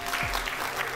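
Audience applause at a spring product launch event, a broad steady wash of clapping filling the full second at moderate level without any voice.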